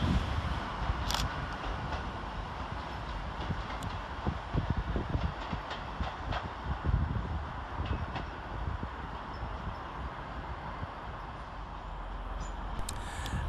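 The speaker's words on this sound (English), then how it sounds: "departing out over on the far side is 802204, working the 1042 Transpennine Express service to Newcastle" Transpennine Express unit 802204 pulls out of Manchester Piccadilly toward Newcastle, a continuous broad rumble of the train moving off with faint wheel clatter and brief squeals, steady and moderately distant throughout.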